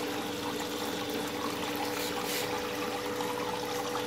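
Water driven by a 1,200 gallon-per-minute King pump runs through a three-stack banjo pan, giving a steady, continuous rushing and trickling wash at close range with no break across the stretch.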